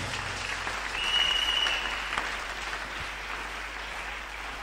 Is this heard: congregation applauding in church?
yes